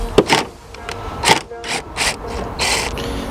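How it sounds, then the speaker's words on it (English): A T25 Torx driver backs a bolt out during a Ford Fiesta MK8 headlight bulb swap: close, dry ratcheting clicks and small mechanical ticks come in uneven bursts over a faint background hum. "Next, using a T25, I'm just going to screw one of the bolts out."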